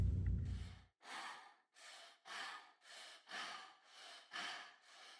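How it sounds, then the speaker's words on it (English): A short low hum gives way to a series of rhythmic, airy breaths, about eight evenly spaced inhales and exhales, close and clear. "interesting using that breath sound"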